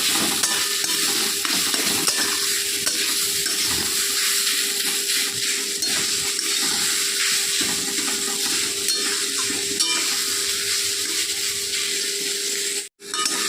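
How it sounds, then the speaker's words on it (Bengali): Radish pieces fry with turmeric and salt in a pan, a continuous close sizzle with rough stirring scrapes and clatter, briefly cutting out near the end. "একটু হলুদ দিতে হবে আর একটু সামান্য পরিমাণে নুন দিয়ে মুলোগুলোকে ভেজে নেব"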